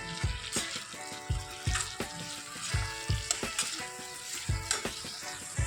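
Capsicum goes into a pan of frying chilli chicken, bringing a close, steady sizzle broken by a series of rhythmic scraping stirs of the spatula against the pan.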